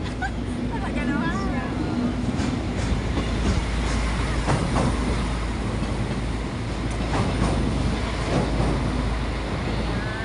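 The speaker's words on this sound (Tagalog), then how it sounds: "May train siya." Train rolling across a bridge in Cologne, Germany, a steady broadband rumble with faint rail clatter and squeaks throughout, heard outdoors with people talking over it.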